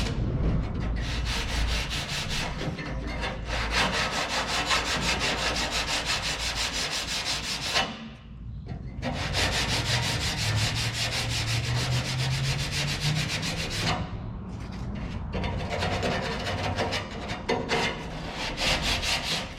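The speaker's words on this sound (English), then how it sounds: "I'm gonna have to put this sandpaper on a stir stick to get the corners" Wood is sanded by hand with sandpaper in long continuous rasping strokes, loud and close, with two short pauses along the way.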